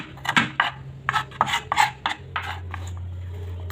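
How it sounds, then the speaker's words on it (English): A knife slicing onions for coconut rice: a quick run of rhythmic cutting and scraping strokes, close by, that thins out toward the end. "So I'm slicing my onions."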